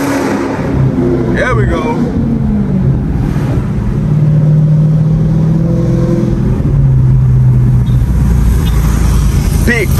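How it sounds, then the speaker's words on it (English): Dodge Scat Pack widebody engine revving inside a tunnel, a loud close rumbling roar that climbs in repeated surges, with someone talking over it. "I ain't gonna hit this one, y'all, but I might just give it a little rev."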